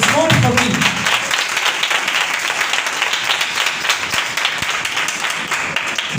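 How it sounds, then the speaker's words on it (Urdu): A church congregation claps and applauds during a Sunday morning service, a loud, dense, sustained clatter of many hands lasting throughout, with a voice briefly heard at the start. "یہ تالی جو آپ بجاتے ہیں it's not for me"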